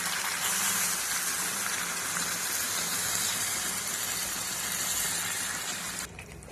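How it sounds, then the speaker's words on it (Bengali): Water pours steadily into a pan with a continuous rushing gush, cutting off abruptly near the end. "এবার জল দিয়ে দেবো"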